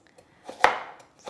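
A knife chops through carrots on a cutting board, giving one sharp, close chop followed by a few fainter strikes, with no talking.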